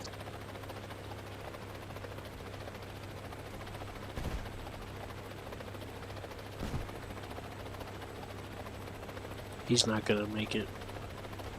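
A helicopter in a multiplayer video game drones steadily in the background while a few brief bursts of gunfire break in, and someone speaks near the end.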